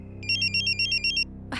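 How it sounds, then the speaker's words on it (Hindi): Mobile phone ringtone for an incoming call, a bright repeating electronic trill in short bursts over a low steady hum, ending with a rustle. "देखो मेरे जानू का फोन भी आ गया"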